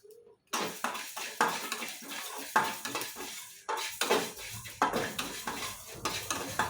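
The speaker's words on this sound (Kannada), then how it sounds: "ಈ ಥರ ಸ್ವಲ್ಪ ಮೆಂತ್ಯ ಹಾಕ್ಕೊತಾ ಇದ್ದೀನಿ ಲಾಸ್ಟಿಗೆ." Fenugreek seeds are dry-roasted and stirred in a pan while making homemade sambar powder, giving a close run of scraping strokes with rattling seeds and a faint sizzle, repeated at an uneven rhythm.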